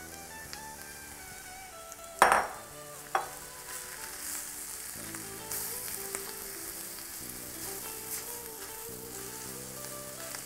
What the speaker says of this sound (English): now I'm going to stir in my shrimp and crawfish